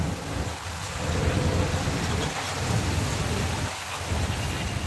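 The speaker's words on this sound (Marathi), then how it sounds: "बघा पाऊस आहे" Steady heavy rain hisses throughout, a dense wash of noise with low rumbling underneath, loud and continuous with no voices.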